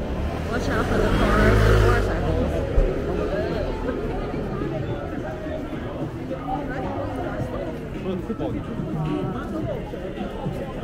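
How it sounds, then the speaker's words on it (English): On a busy Hongdae street in Seoul, a car passes close by, its engine swelling loudly and then fading within a couple of seconds, with crowd chatter and street noise continuing afterward. "Watch out for the car."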